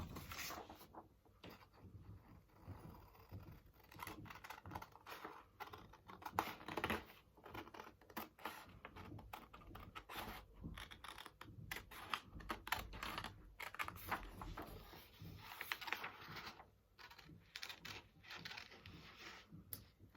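Scissors cut out a paper heart, with quiet, close, irregular snips and scratchy rustles of paper continuing throughout. No one speaks.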